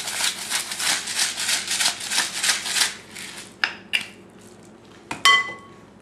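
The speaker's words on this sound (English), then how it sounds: "we're gonna whisk this really well" Buttermilk, flour, eggs, salt and pepper whisked together in a bowl, heard as a fast, steady run of close, rhythmic scraping strokes, followed by a few sharp utensil clicks and taps against the bowl.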